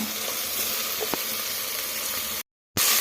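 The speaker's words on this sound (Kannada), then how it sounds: "ಹೆಸರುಬೇಳೆನ ಸೇರಿಸ್ಕೊಂಡು ಹೆಸರುಬೇಳೆನ ಆಯಿಲಲ್ಲಿ 1 ನಿಮಿಷ ಫ್ರೈ ಮಾಡ್ಕೊಳ್ಳೋಣ" Washed moong dal fries in oil in a pan, a steady close sizzle with a few stirring clicks, cut by a short silent gap before resuming.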